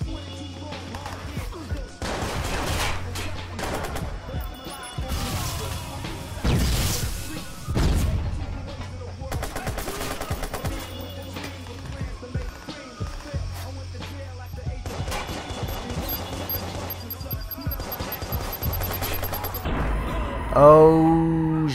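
Explosions and gunfire in the video game Watch Dogs, with booming blasts and rattling shots layered over a continuous game soundtrack, ending in a brief bright sweep.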